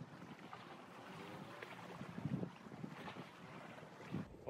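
Gusty coastal wind buffets the microphone with a rough, continuous roar during fishing on a rocky shore, with faint waves washing underneath and no voices.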